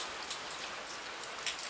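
Steady rain falls outdoors beside a railway, a dense even hiss with a few louder patters on a surface and no voices.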